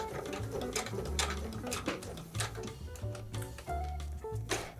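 A sewing machine back stitches a quilted bowl cozy in short, quick bursts of rapid needle clatter. The stops and starts are close and fairly quiet, with no talking.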